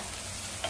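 Thecha, a chili paste, sautés in hot oil, a quiet soft sizzle and crackle with a faint stirring scrape near the end, no voices.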